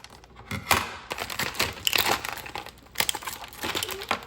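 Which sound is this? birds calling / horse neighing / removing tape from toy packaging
removing tape from toy packaging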